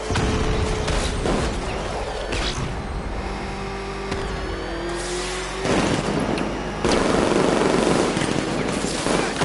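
Sustained rapid gunfire in the video game Batman: Arkham Knight, loud bursts of automatic shots over a droning engine and vehicle rumble, continuous and intense throughout.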